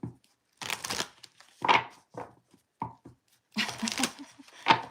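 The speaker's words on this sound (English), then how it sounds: "This is how I shuffle," Playing cards are shuffled in several short, crisp riffling bursts separated by pauses, close to the microphone.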